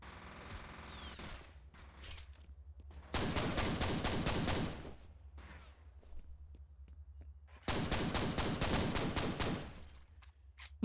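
Gunfire in the first-person shooter F.E.A.R. on Xbox Series X, with two long loud bursts of rapid automatic fire separated by quieter stretches of scattered shots.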